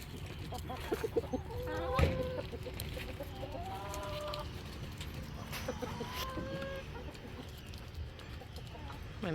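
Chickens in a mixed coop of roosters and hens cluck and call close by in an irregular chorus, with a sharp knock partway through and a constant background murmur.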